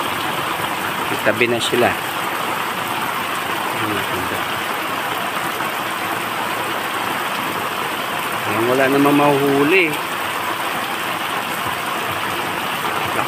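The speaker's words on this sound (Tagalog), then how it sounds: "Lakas ng ulan. Sobra." Heavy rain pouring at a fishing spot in Olongapo, Zambales: a loud, constant hiss and roar that runs throughout, with people talking over it.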